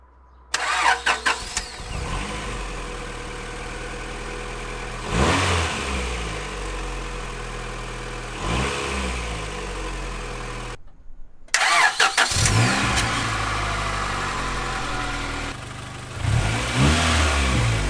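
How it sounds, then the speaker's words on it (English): A Honda B18C car engine revs repeatedly from idle, climbing and dropping in several smooth bursts, loud and close, with a short pause midway. "The engine didn't rock at all. It revs super smooth."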